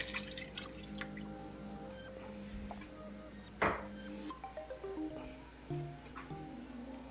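Water poured into a pot of chicken adobo with soy sauce and vinegar, a quiet trickle and splash followed by scattered drips and small liquid plops, close and soft in an otherwise hushed kitchen.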